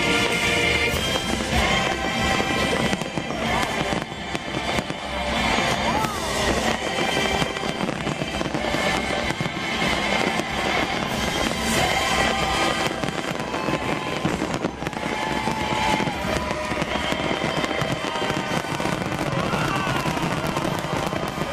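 Disney World's millennium fireworks finale: a dense, continuous barrage of booms and crackling bursts at steady loudness, with music and crowd noise mixed underneath.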